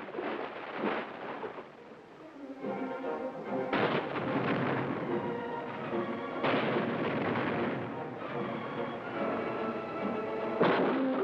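Naval destroyer guns firing in battle, recorded on archival 1966 film, heavy muffled booming blasts that recur every few seconds over a dense, rumbling, narrow-band roar.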